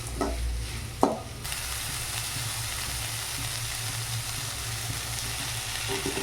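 Cut bitter gourd frying in a pan, with a constant close sizzle throughout and a couple of sharp clatters near the start as the pieces go in and get stirred, no voices.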